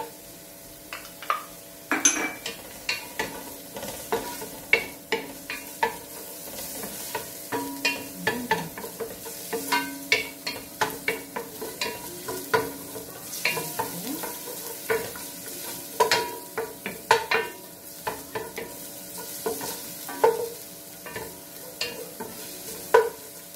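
Garlic and ginger sizzle in hot oil in a pot for chicken soup, with a spatula clinking and scraping busily against the metal in a quick, uneven rhythm over a soft frying hiss.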